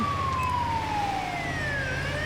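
An ambulance siren in GTA 5 wails with an echoey tone sliding slowly downward over a steady engine rumble, loud and continuous with no talking.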